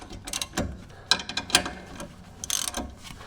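A ratchet wrench tightens brake caliper bolts on a sticking caliper, sounding as quick close bursts of clicking pawl strokes separated by short pauses.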